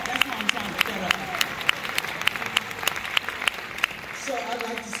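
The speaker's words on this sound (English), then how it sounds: "Could you give everybody a round of applause?" Audience applauding at a National Rhythm & Blues Hall of Fame induction, a steady wash of clapping with sharp individual claps cutting through, some voices and cheers mixed in.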